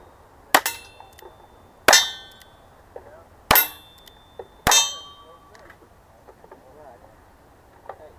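Bullets strike steel targets with four sharp ringing clangs at a cowboy action shooting match, each followed by a short metallic decay, with fainter gunshots and quiet voices in between.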